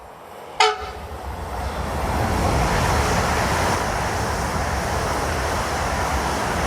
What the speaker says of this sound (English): the driver of this ICE4 is greeting me and my friend